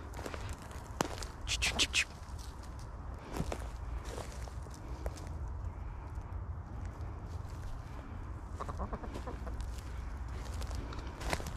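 Chickens cluck in short bursts nearby, with footsteps shuffling through the scene and a few louder squawks early on.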